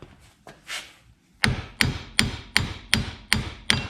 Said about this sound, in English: Now I'm going to take a small brass hammer. I'm going to give this a few whacks.